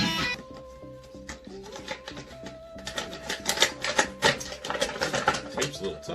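Tape is pulled and peeled off the packaging of a Mattel WWE Elite Sensational Sherri figure, close crackling and ripping bursts that grow denser and louder toward the end, with no voices.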